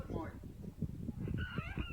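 Swans give a few moaning, wavering calls, rising and falling over a murmur of background talk, moderately close.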